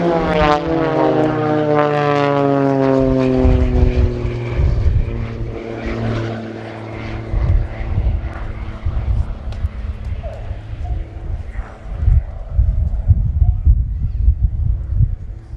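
Blades aerobatic team propeller aircraft fly a display at RIAT, engines droning loudly with a pitch that falls as the planes pass, then a rougher rumble beneath a commentator talking over a public address.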